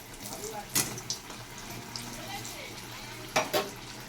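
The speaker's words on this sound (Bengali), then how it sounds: "2 পিস আমি বেগুন ভেজে নিচ্ছি" Two pieces of eggplant frying in oil in a home kitchen: a soft continuous sizzle with a couple of sharp splattering bursts as the pieces are turned, a voice speaking lightly in the background.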